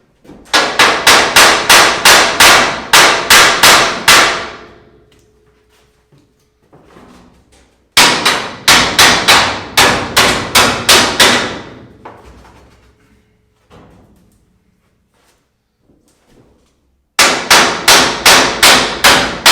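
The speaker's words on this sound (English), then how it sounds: "All I'm going to do is tap this on the bottom and get these out of there." Three loud bursts of rapid, evenly spaced hammer blows, about eight strikes each, ring out up close as pins are tapped out of a 1997 trailer floor, with quiet pauses and faint clunks between.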